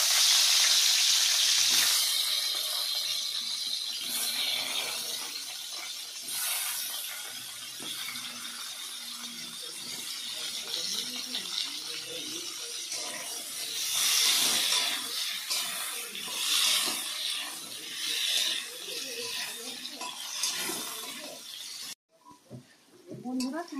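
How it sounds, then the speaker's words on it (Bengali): Pumpkin pieces frying in hot oil in a pan, a steady bright hiss and sizzle that runs the whole time and fades near the end, with faint stirring clatter underneath. "ওই তেলের মধ্যে কুমড়োগুলো ভেজে নেব।"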